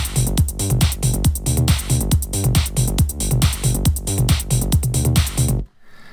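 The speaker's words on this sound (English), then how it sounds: "I've created a trance loop at 138 beats per minute." An EDM trance drum loop at 138 BPM pounds out a steady four-on-the-floor kick with driving hi-hats and percussion, loud and dense, cutting off abruptly near the end.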